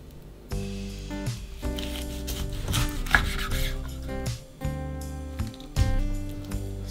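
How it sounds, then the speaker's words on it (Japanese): A kitchen knife cuts at an angle through a beef joint for French consommé, making soft rubbing, scraping strokes with a few firmer chops, close but fairly quiet under steady background music. "少し斜めに包丁を入れるとスッと切れます。"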